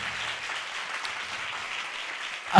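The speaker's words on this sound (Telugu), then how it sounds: "కొంచెం గట్టి కొట్టండి చప్పట్లు" A church congregation claps in praise to God during a fasting prayer service, an even, continuous wash of applause at moderate distance.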